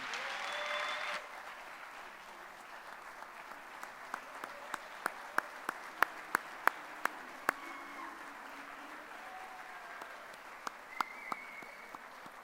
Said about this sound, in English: Round of applause for Maria, your newest Yeah. Hall of Famer.